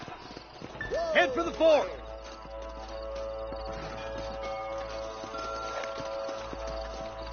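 Horse hooves clip-clop in the Western video game Red Dead Redemption, a steady stream of hoofbeats under a man's speech with a brief whinny, continuing as the horses slow.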